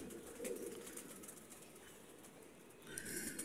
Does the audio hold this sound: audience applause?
no